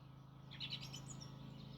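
Small birds chirp on a terrace in a few quick, high tweets clustered in the middle, faint and distant over a steady low background hum.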